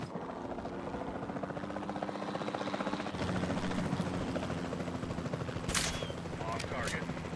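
Helicopter rotor drone from a dinosaur capture in Jurassic World Evolution 2, steady throughout, with a few sharp tranquilizer shot bursts near the end and game voices over it.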